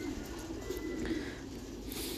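Thai pigeons coo inside a farm coop during cleaning, with low throaty burbling calls overlapping continuously and a soft rustle behind them.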